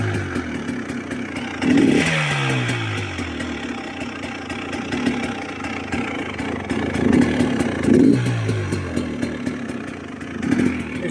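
A brand-new GPX 300L TSE motorcycle runs just after a cold start, with its engine idling unevenly under a steady mechanical clatter and rising in several short blips of revs.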